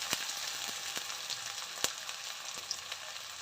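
Green chilies, ginger paste and cumin powder frying in a pan, with a quiet, steady sizzle broken by scattered sharp pops and crackles, close and alone.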